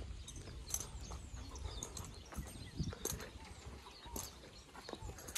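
Horse hooves clip-clopping at a walk on a Brazilian cattle ranch, a steady irregular patter of close hoofbeats with outdoor background noise and occasional faint birds.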